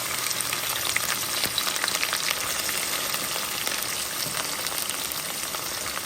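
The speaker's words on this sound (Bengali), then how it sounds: "আমার কড়াইতে তেল গরম হয়ে গিয়েছে" Onions frying in hot oil in a wok, a dense, steady crackling sizzle heard close up and alone, with no voices over it.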